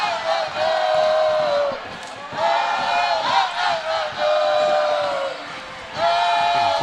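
A large arena crowd at an acrobatics and tumbling national championship final, Oregon versus Baylor, roars and cheers loudly in sustained waves with brief dips between surges.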